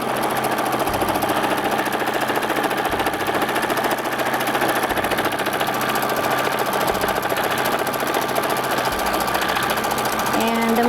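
A sewing machine stitches a bag seam at a fast, steady, rattling pace, running continuously and close up without any talking.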